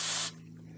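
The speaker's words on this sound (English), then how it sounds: "good old carb cleaner, and spray it" Carb cleaner sprayed onto a Suzuki SJ 410 carburetor during servicing gives a loud, steady aerosol hiss for about a quarter second, then cuts off, leaving a faint low hum behind.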